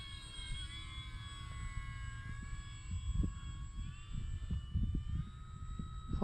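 Eflite F4U-4 Corsair RC airplane flying at a distance, a faint, thin motor whine holding steady tones overhead while wind gusts rumble loudly nearby.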